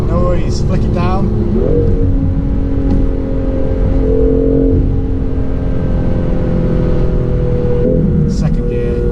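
A BMW M2 engine pulls hard after a downshift, a loud continuous in-cabin drone with pitch rising through the gears and brief dips at each shift.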